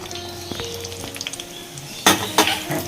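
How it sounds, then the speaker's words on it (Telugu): Green chillies frying in a pan give a soft crackling sizzle with light ticks, then two louder bursts of spitting and stirring near the end, heard close up. "ఇప్పుడు పచ్చిమిర్చి కూడా వేయించుతాను"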